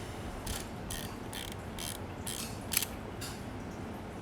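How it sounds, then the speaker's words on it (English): Shutter of a Voigtländer Vito II folding film camera firing, a series of about seven short crisp mechanical clicks spaced roughly half a second apart, close and clear over a faint steady hiss. "See, you activate the shutter."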